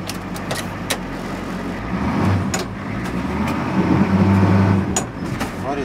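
A bus engine turns over and settles into a low, steady rumble close by, with a few sharp clicks and knocks over the running engine.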